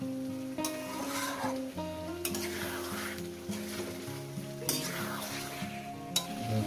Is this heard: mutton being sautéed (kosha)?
yes